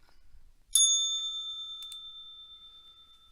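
A stock market opening bell gives a single bright, ringing strike that rings on and slowly fades, with a faint second tap shortly after, alone in near silence.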